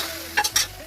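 Whole spice mix for masala roasts in a pan, with a quiet sizzle under two quick scraping stirs close by.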